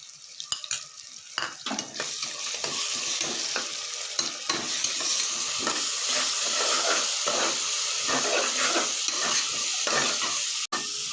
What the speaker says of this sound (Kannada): ಶುಂಠಿ ಬೆಳ್ಳುಳ್ಳಿ ಪೇಸ್ಟ್ ಹಾಕಿ ನೀಟಾಗಿ ಫ್ರೈ ಮಾಡ್ಕೋಬೇಕು